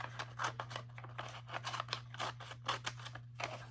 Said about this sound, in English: When I'm cutting, I'm looking at scissors.